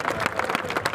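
Audience clapping at a political gathering in Pataudi, a short, dense burst of applause from a crowd close by, steady and fairly loud throughout.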